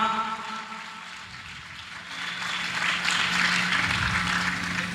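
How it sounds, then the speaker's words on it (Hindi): A crowd at a Jain Dashlakshan festival gathering gives loud applause to those who fasted, the clapping swelling into a dense, sustained roar over a faint hum and lasting to the end. "मैं चाहूंगा कि एक बार उपवासकर्ताओं के लिए जोरदार तालियां पुनः"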